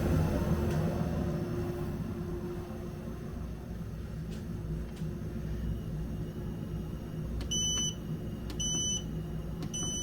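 A Growatt 3000 power inverter emits three short bursts of electronic beeps near the end, clear tones standing out over a steady low hum from the running equipment.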